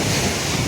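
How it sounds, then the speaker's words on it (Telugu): Sea waves washing in at RK Beach in Visakhapatnam, a dense, steady roar of surf mixed with wind buffeting the microphone, loud and continuous. "అలలు, క్లౌడ్స్ కాదు అలలు"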